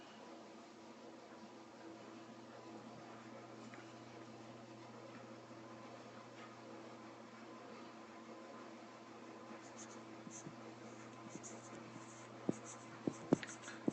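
A pen drawing a triangle on paper, faint scratchy strokes over a low steady room hum, with a few sharper taps toward the end.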